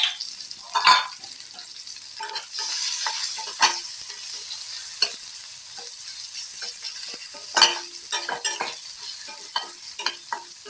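Small chopped onions fry in hot oil for a Bengali fish egg curry, giving a steady close sizzle broken by scraping stirs of a spoon against the pan and occasional clinks.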